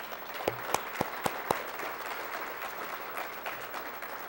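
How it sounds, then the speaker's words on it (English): Light applause at a community college nursing pinning ceremony for the graduating class of 2012, with a few sharp, distinct claps near the start over a thin, steady background of clapping from a modest crowd. "How about a round of applause for them?"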